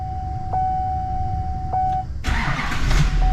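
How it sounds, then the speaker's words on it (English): A 2008 GM Duramax diesel truck with a lit check engine light and replaced glow plug: dash chimes sound first, then the engine cranks and catches into a loud, rough idle. "Starting the truck."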